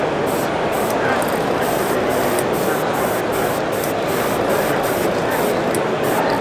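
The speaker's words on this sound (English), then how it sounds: "You pretty much spray anywhere you want to spray." Copic airbrush spraying paint onto custom fishing baits, a steady continuous hiss of fine mist running unbroken throughout, close and fairly loud with no talk over it.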